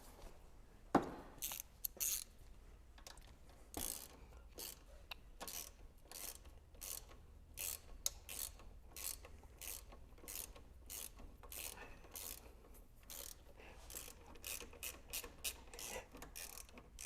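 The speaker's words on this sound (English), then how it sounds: "What am I looking for? A ratchet." A hand ratchet clicks in short, irregular runs while turning bolts during an RB25 engine ECU install, faint and close, with pauses between strokes over a quiet background.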